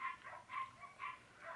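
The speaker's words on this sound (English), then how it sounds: "them dogs barking, can y'all hear them?" Several dogs bark in the distance, a few faint, repeated barks spaced about half a second apart, heard alone in a quiet indoor setting.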